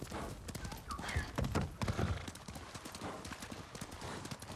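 Horse hooves clip-clop at a steady trot in the video game Ghost of Tsushima, a continuous run of quick, close thuds with a brief whinny-like note early on.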